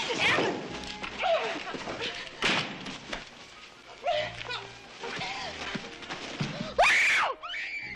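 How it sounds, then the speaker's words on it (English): A woman screams loudly and repeatedly in a tense scene from a classic Western TV drama, her shrieks rising sharply over brief thumps and background voices, with a piercing peak near the end. "Stop screaming."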